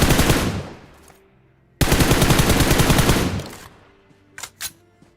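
Loud bursts of automatic gunfire crackle during a squad fight in a battle royale video game, one long burst, a pause, then a second sustained burst followed by a couple of sharp isolated shots.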